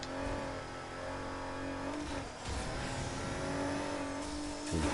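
Car engine in Need for Speed Heat on PS4 holds a steady, loud droning rev for about five seconds with no speech over it.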